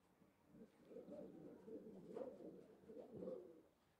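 Pigeons coo softly in a loft or rooftop flock setting, several low rolling coos repeating over a few seconds, moderately close but quiet.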